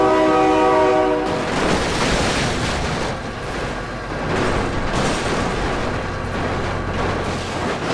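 Train horn in the BeamNG.drive driving game blares loud and steady for about a second, then gives way to a continuous rumbling roar of the passing train with rattling wagons.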